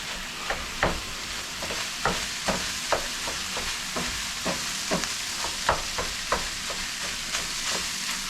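Leftover rice being mashed and stirred in a hot pan for a leftovers burrito, with irregular scraping knocks of a utensil against the pan over a steady low sizzle, close and alone.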